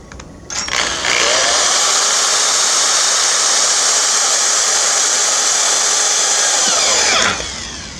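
A power drill drives a self-tapping screw into a boat to fix a ground wire, a loud, close, high-pitched whine that starts abruptly, holds steady for several seconds, then winds down.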